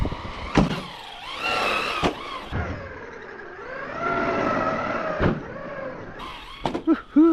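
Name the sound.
Arrma Big Rock 223S RC truck running on snow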